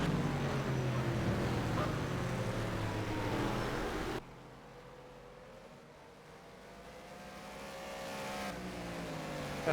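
A race car in a racing video game accelerates around the Bahrain circuit. Its engine drones steadily and loudly, cuts abruptly to a quieter whine with rising gear-change tones, then builds again.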